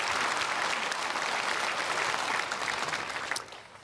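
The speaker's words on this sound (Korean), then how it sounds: "크게 박수로 환영하겠습니다" A large church congregation at a Sunday service applauds newcomers, with dense, sustained clapping that fills the hall and then tapers off near the end.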